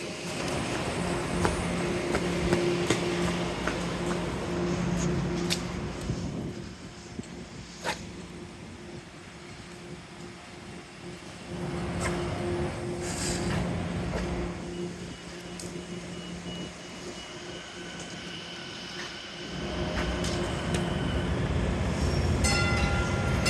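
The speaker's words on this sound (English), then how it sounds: "This is a Riverside bound Type 9 Green Line train entering" A single Riverside-bound Type 9 Green Line tram pulls into Reservoir station in Brookline, a steady rumble of wheels and motors that dips midway, swells again, and ends with a louder close pass and faint high squeals.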